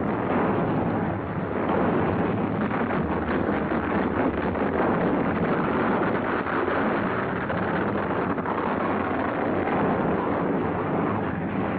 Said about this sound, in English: Wind reaches the nearest ship, the Yancey.